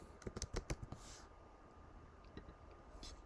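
Keys tapped on a computer keyboard to enter a module name in VCV Rack 2, a quick burst of about a dozen close, crisp clicks early on, then a few sparse taps.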